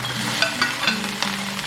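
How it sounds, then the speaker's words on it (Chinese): Corn kernels and diced carrot stir-fried in a wok with lard, a brief soft sizzle under a low hum, marked by a few light scraping strokes of a spatula. "接着我们下入玉米粒跟胡萝卜粒"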